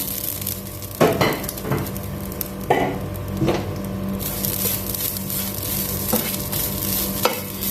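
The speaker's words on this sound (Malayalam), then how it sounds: "അപ്പൊ നമുക്ക് നമ്മുടെ നാളികേരം വറക്കാം" Grated coconut roasts in a hot pan with cardamom and cloves, a close, even sizzle broken by several sharp scraping stir strokes spaced a second or two apart.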